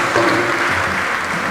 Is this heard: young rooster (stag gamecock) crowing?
no